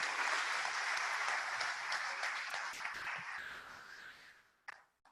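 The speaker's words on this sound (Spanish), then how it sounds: "Un aplauso para el ingeniero Napoleón Serna, por favor." An audience at an engineering conference applauds the speaker with sustained, fairly even clapping that gradually tapers off, followed by a couple of faint knocks.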